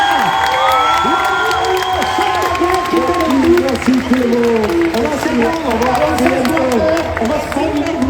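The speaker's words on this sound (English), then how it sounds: "Mais applaudissez-les s'il vous plaît, encore une fois." Audience at a Paris manga convention panel applauds and cheers loudly, clapping mixed with shouts and excited voices from a large crowd.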